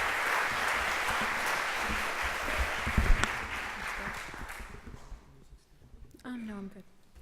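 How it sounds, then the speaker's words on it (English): An audience applauds a poet at an outdoor poetry reading, a broad burst of clapping that holds for about five seconds and then fades, after which a single voice begins speaking. "please give her a healthy round of applause"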